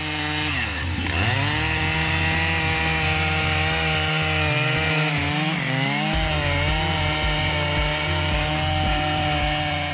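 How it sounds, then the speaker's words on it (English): Stihl MS 881 chainsaw cutting a mahogany tree on a mountain slope, a loud continuous engine roar that dips briefly in pitch under load, then revs back up as the chain bites steadily through the wood. "This work was carried out using the Steel MS 881 chainsaw, a powerful and reliable chainsaw in the wood industry"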